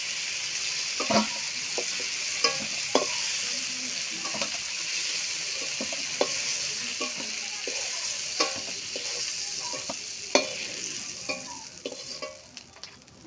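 Prawns sizzle steadily in hot oil in a pan while a utensil clinks and scrapes at irregular intervals as they are stirred and lifted out, no voices, close and moderately loud throughout.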